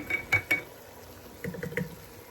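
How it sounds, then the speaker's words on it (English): A utensil stirs brown sugar and pepper in a pot for baked beans, giving a few short metallic clinks and scrapes close by, spaced out over a couple of seconds, with no talk. "I really just want to stir this together before I add our beans back in here"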